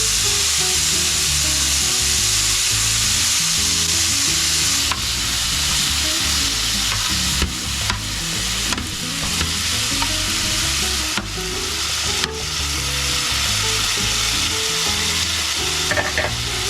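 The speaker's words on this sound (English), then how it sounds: "I'm just tossing that in there, mixing it with the vegetables" Seasoned fajita meat and vegetables for a Mexican parrillada sizzle loudly in a pan, a constant close frying hiss with sharp scraping and clattering as they are tossed and mixed.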